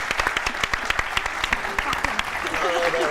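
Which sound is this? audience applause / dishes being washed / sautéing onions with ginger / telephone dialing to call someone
audience applause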